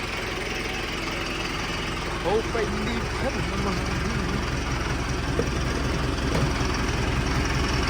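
A John Deere 5405 tractor engine idles steadily and low throughout, with brief speech and faint clanks over the rumble.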